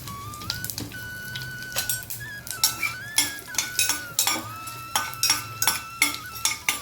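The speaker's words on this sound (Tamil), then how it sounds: "கடுகு நல்லா வெடிச்சிருச்சு" Sparse crackling pops and small spatters from mustard seeds in hot oil, with occasional metallic clinks of a utensil against a pan over a low steady hum.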